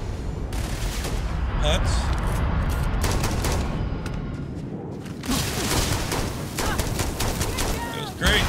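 Gunfire from a firefight in Starfield, with rapid bursts of shots and booming impacts that come in clusters, while a voice speaks briefly over them.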